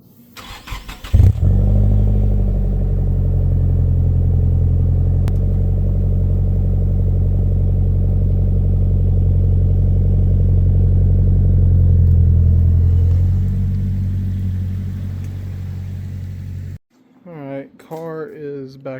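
A Nissan 180SX drift car engine starts up and idles steadily with a loud, low rumble while the car is backed out, then cuts off near the end as a voice begins talking.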